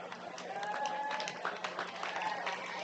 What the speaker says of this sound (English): Crowd getting behind the Hardhats.